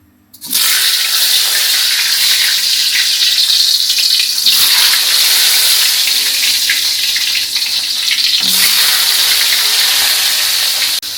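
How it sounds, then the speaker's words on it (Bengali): Pointed gourd (potol) sizzling in hot oil in a pan, a steady loud broadband hiss running continuously with slight swells, no voices. "পটলটা ওদিকে ভাজি হচ্ছে"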